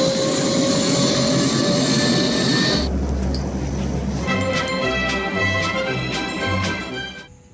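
Loud, sustained roar of a military aircraft landing in a film scene carrying mercenary soldiers, with a rumbling engine drone that shifts and then fades toward the end.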